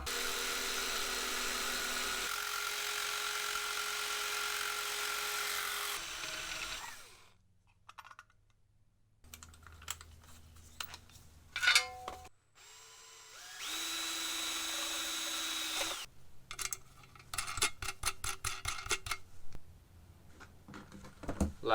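A power tool cuts through aluminum sheet in several long, harsh grinding bursts separated by quiet gaps, with clatter and handling knocks between passes, close and loud.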